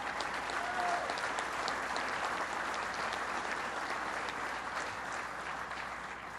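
Sustained applause from a crowd at a 9/11 memorial event, dense steady clapping filling the whole stretch at a fairly even level, with no voices rising above it.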